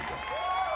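A short applause sound effect from a Twitch stream clap redeem, a brief burst of crowd clapping with a faint cheer, heard alone at moderate volume.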